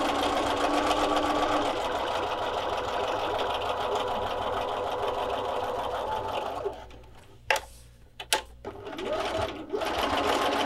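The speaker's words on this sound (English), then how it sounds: "You just sew all the way around. Backstitch when you stop." A sewing machine stitches steadily around a cross-stitch pillow ornament, a close, fast, continuous whir that stops near the end for a few clicks and handling noises before starting up again.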